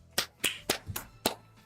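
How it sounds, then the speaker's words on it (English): Hands clapping during an online game playtesting session, five sharp, fairly close claps in an uneven rhythm over under two seconds, with no one talking. "The clapping was loud"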